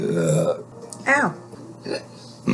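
A person lets out a brief burp amid short vocal noises and exclamations, with a couple of quieter sounds trailing after it.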